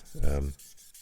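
A single short rubbing stroke of a sanding stick across a painted model's hard surface, close and fairly loud, followed by quieter scraping.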